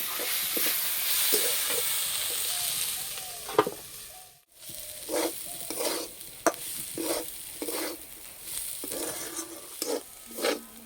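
Carrots and potatoes frying in a pan are stirred in repeated scraping strokes over a steady sizzle, with a short pause midway before the stirring resumes; no one speaks.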